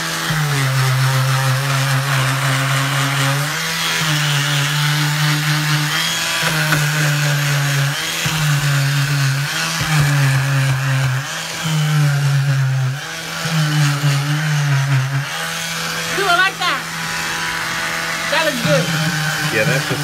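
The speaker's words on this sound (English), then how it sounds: "It's easier to sand" Loud, steady whine of a power sander grinding thick oil-based paint off a wooden rocking chair, running close and nearly nonstop with slight pitch dips as pressure changes, a voice occasionally heard over it.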